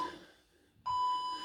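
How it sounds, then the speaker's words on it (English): A workout interval timer gives a steady electronic beep, clear and sustained after a short pause, in a school PE session. "Here's your beeps."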